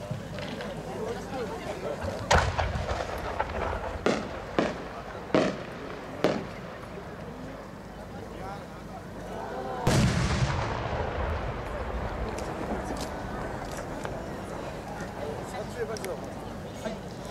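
No. 8 shell fireworks burst at a fireworks competition in Aizu, Japan, with several sharp booming reports spaced a second or two apart, then a louder blast followed by a crackling, rumbling tail and more distant pops.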